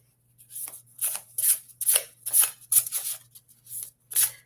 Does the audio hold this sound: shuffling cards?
yes